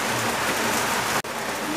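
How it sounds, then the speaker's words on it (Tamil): Heavy rain pouring down steadily, a dense loud hiss of drops striking surfaces, continuous and close with no talking. "அன்னைக்கு மழை வருதுங்க"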